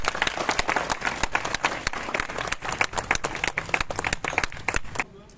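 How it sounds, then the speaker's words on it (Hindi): An audience applauds at a legal rights awareness programme marking Constitution Day, with dense, steady clapping that stays loud for about five seconds before stopping abruptly, while talk mixes in. "तालियां बजाइए भाई लोग।"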